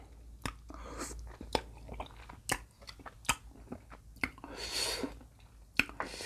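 Close-up chewing and biting while eating something with sweet fish sauce gives wet crunches and squishy mouth sounds at an uneven rhythm, fairly quiet with no talking.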